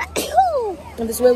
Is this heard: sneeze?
yes